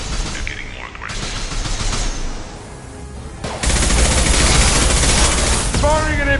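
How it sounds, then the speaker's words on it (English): Impact shot gunfire in Mass Effect 2 Legendary Edition: loud, dense bursts of weapon fire that swell sharply after a quieter stretch, with game effects and a voice talking over the combat. "Firing an impact shot!"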